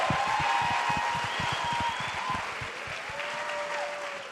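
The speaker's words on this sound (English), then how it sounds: "Give them a round of applause one more time." A panel audience applauds the cast of Hulu's Wu-Tang: An American Saga, with dense, sustained clapping filling the room at moderate level and a few louder, sharper claps standing out near the front.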